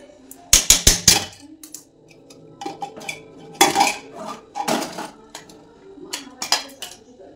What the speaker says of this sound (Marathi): आता आपण कुकर उघडून बघूयात